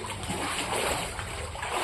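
Kids swimming in a pool on a hot day, with steady close splashing and sloshing water filling the short stretch and no clear speech.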